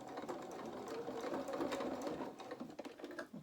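Quiet sewing machine reversing over felt doll bloomers, a soft close steady hum of rapid stitching that slows and stutters toward the end.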